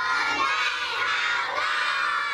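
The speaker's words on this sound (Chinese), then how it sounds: "让大爱幼儿园的小朋友们欢呼雀跃" A crowd of kindergarten children cheers and shouts excitedly, a dense, bright chorus of high voices that stays loud and continuous from start to finish.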